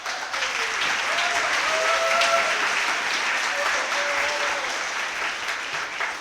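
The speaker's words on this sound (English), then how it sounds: "Give yourselves a round of applause" A lunch audience at a conference gives a sustained round of applause, dense and steady from start to finish, with a few voices calling out briefly over it.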